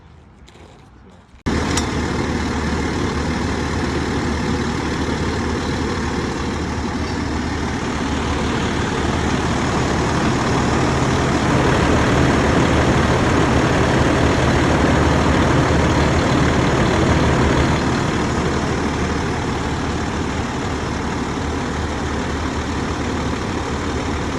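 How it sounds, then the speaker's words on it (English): A vacuum truck's heavy diesel engine starts abruptly after a brief quiet moment, then runs loud and steady at a constant roar, rising slightly in intensity midway, with no talk audible over it. "let's get her fired up, and you obviously won't be able to hear me because this truck gets pretty loud."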